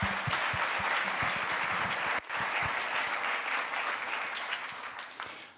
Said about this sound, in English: So again, applause for the validators.